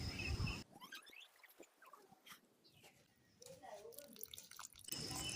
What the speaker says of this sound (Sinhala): මේ වගේ හොඳට ගෙඩිය තෙමෙන්නම වතුර ටික දාගන්නවා.